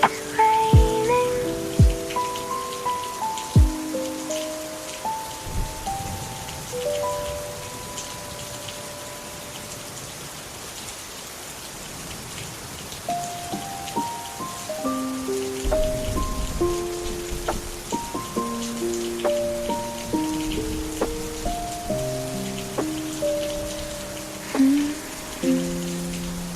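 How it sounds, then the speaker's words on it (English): Rain falls on a surface in a soft, steady patter under a gentle piano melody of sustained notes, the drizzle staying faint and continuous with occasional louder drops. "Still raining, always raining."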